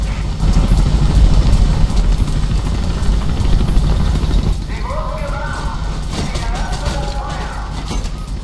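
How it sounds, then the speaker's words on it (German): A helicopter in the Mirror's Edge video game thrums loud and close with a dense rotor chop, softening halfway as other mechanical noises and a voice come in over it. "Helikopter hat dich entdeckt."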